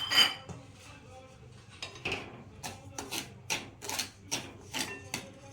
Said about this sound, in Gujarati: આપણે મીઠું પણ આ રીતના શેકી લઈશું